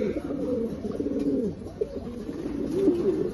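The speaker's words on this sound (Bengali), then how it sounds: "এই এক পেয়ার কবুতর" Soft, low coos of a pair of racing pigeons repeat in a steady murmur, close by, with faint rustling in the background.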